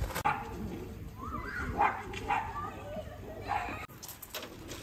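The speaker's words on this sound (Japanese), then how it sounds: "かわいいワンちゃんがいる。" Near a quarry lake in Ibaraki, Japan, a dog gives a few short barks and yips, scattered and mid-distance, while people talk nearby.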